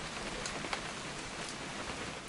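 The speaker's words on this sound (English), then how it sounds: "It's gonna rain the whole weekend, isn't it?" Rain falling in the video game Remains of Edith Finch, a soft, steady hiss of rainfall with faint scattered drop taps, quiet and even throughout.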